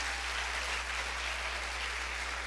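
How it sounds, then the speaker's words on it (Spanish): Church congregation applauding during a Father's Day celebration service, a steady, dense wash of clapping that holds evenly throughout with a low steady hum beneath and no talk. "¿Alguien le puede dar un aplauso al Padre que está en los cielos aquí?"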